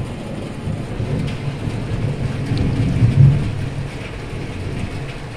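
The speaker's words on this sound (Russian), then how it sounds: "хотя это сильно так молнии грохочут" Deep thunder from an evening thunderstorm rumbles and swells to a peak midway, rolling on beneath steady rainfall; no one speaks.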